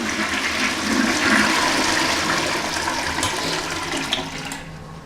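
A household toilet flushes close by, a loud rushing swirl of water that surges at first, then tapers into a gurgling drain and refill within a few seconds, with no voices.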